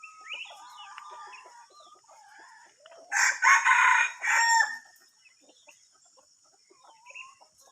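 A released red junglefowl rooster living near a house alongside domestic chickens gives a single clear crow at mid-distance, framed by faint chirps and clucks.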